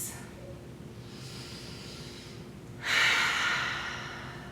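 Slow cleansing breaths during a gentle prenatal yoga session in child's pose, a soft exhale near the start and a louder, breathy sigh-like release around the three-second mark, close and quiet over faint background hum.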